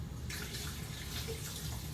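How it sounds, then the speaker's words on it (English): Tap water pours in a soft, steady stream into a Blendtec blender jar, about a cup's worth, quiet and close with no talking. "Add some water."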